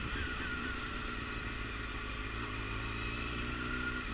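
A 600 motorcycle idles in first gear with a steady, close engine drone and low rumble that holds even throughout.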